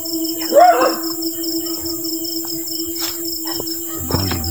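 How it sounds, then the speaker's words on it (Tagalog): A dog belonging to a mother at her house howls once, close by and loud, against a constant chorus of night insects. Faint thumps and other small noises follow. "Ito yung aso ni nanay mga kaidol no."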